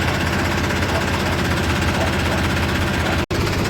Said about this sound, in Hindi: आगे से ट्रैक्टर आ गया है, मुझे बचाना पड़ेगा।